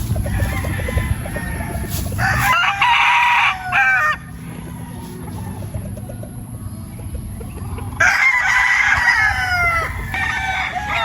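Straight-comb gamefowl roosters crowing on a breeding farm, two loud drawn-out crows several seconds apart over constant low background noise and faint clucking.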